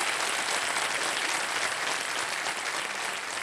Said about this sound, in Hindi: एक बार फिर तालियों के साथ इनका अभिनंदन और स्वागत।